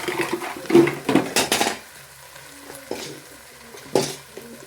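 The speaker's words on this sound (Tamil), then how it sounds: "கொஞ்சமாக உப்பு போட்டு தக்காளி போட்டுக்கலாம்." Tomatoes tipped into a pan of spiced base for a Tamil fish curry, meen kulambu, giving a few clattering utensil knocks and stirring scrapes over a soft sizzle, with no talk.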